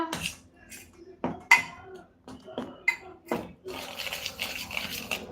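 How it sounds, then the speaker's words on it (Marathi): A spoon stirring and scraping ingredients for pav vada batter in a metal bowl, with several sharp clinks and scrapes at irregular intervals, close up, followed by a denser rattle of mixing. "हे सगळं चमचीच्या साह्याने आपण मिक्स करून घेऊया"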